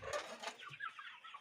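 Young chicks in a poultry house cheep in quick, thin, overlapping bursts close by, with soft clucking and faint rustle between the calls and no speech.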